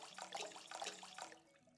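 Water poured into a mixing bowl for rye bread dough in the Bakery Simulator video game, a short, fairly quiet splashing pour of under two seconds with no talking.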